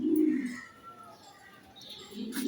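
Budapest racer pigeons give low, throaty coos close by, one at the start and another at the end, with quiet room sound between.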